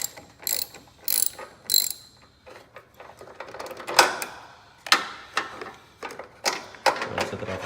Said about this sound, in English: So we're gonna take our ratchet with our 10mm bit. We're gonna go ahead and disconnect the battery cable.